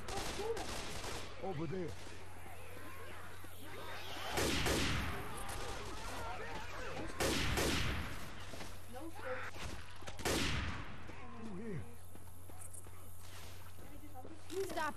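Gunfire in the Left 4 Dead 2 video game, loud bursts of rapid shots in several volleys, mixed with game noise while people talk over it.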